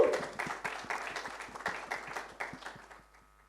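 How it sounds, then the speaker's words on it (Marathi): Applause at a press meet for a Marathi film, welcoming actor Sanjay Narvekar: steady rhythmic clapping from a modest crowd that gradually thins and fades out over a few seconds. "जोरदार टाळ्यांनी स्वागत करा संजय नार्वेकर सर यांचं"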